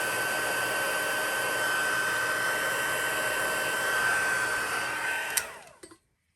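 A heat gun blows a steady, loud, close whoosh as it melts embossing powder on a stamped card, running evenly before switching off and winding down abruptly near the end.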